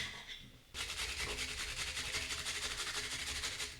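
Half an onion is grated finely on a kitchen grater for a chicken wing recipe: a steady, rapid rasping scrape starts abruptly and continues in an even rhythm, close and fairly loud, with no talking.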